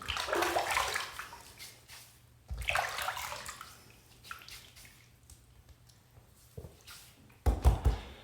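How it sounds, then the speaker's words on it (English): A Defender cartridge razor is rinsed under a running tap, with bursts of splashing water and dripping between the pours, close and fairly quiet, followed by a sharp clatter at the end. "Let me rinse real quickly."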